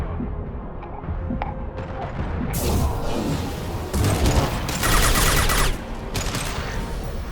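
Sci-fi gunfire in the Mass Effect game, a dense continuous barrage of rapid weapon shots that swells louder in bursts over a rumbling battle bed, with no talk.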